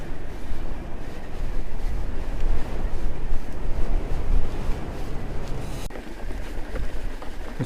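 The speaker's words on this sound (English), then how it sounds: "Pretty blowy up here." Strong wind on a hilltop during a mountain bike ride near Ladybower, roaring steadily as loud, broadband buffeting across the microphone with no talking.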